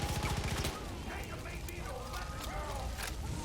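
Gunfire in the video game Far Cry 5 rings out as rapid shots early on, then a continuous game soundscape underneath, with someone talking.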